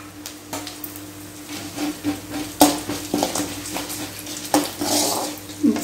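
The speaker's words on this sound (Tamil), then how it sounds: "எண்ணெய் சூடாயிடுச்சிங்க, கடுகு சேர்த்துருவோம்" Mustard seeds, urad dal and chana dal fry in hot oil over a low flame, giving a soft sizzle broken by sporadic sharp pops and crackles, close and fairly quiet.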